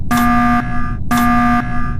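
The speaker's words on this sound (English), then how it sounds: "Emergency alarm." The Among Us video game emergency alarm blares twice, two loud electronic buzzer blasts of about half a second each, evenly spaced and alone with no talking.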